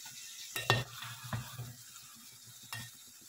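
Fish being stirred into curry in a pan on a home stove: a few scraping spatula strokes with clinks against the pan over a low, steady sizzle, close and fairly quiet.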